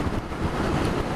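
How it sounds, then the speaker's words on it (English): Steady, loud wind roar buffeting the helmet while riding a Royal Enfield Interceptor 650 motorcycle, continuous broadband rush with no speech. "it's quite windy"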